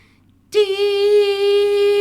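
A loud, steady, high-pitched pure tone with strong harmonics starts abruptly after a brief quiet moment and holds unchanged to the end, harsh and piercing.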